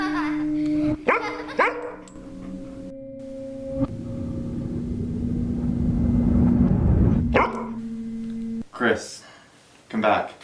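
A dog barks in several sharp bursts spread across the stretch, with a steady electronic tone and a swelling noisy rumble in between, in a college radio senior show segment.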